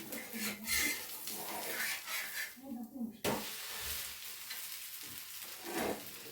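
Keerai dosa made with mudakathan greens sizzles and crackles on a hot pan as it is flipped, with scraping spatula sounds and a brief quiet gap midway.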